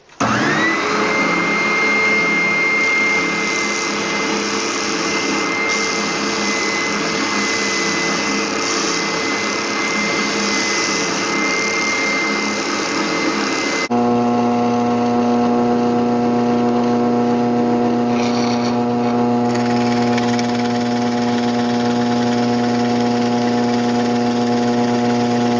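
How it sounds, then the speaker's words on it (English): A spindle sander runs loudly and continuously as it shapes the rounded end of a wooden Gates belt gauge, and its steady whine changes pitch partway through as the wood is pressed against the drum. "I'll fine tune our rounded end on the spindle sander"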